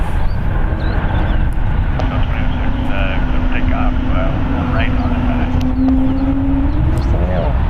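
An airliner lands at San Francisco International Airport, a loud steady engine roar with a drawn-out droning tone sweeping slowly upward, heard under ongoing talk.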